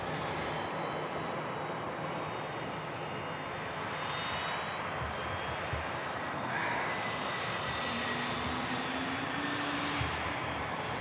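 A jet taxis out at Manchester Airport, either a Finnair airliner or a Learjet 45, its engines giving a steady, fairly distant whine and rumble that holds level throughout, with no voices.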